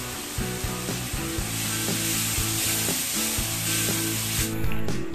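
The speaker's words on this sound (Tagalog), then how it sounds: "maglagay na po tayo ng tomato sauce. Yan, atin din po yung igigisa." Tomato sauce sautéing with softened onions in a pan for chicken afritada, a steady close sizzle with stirring scrapes running throughout and a brief hiss near the end.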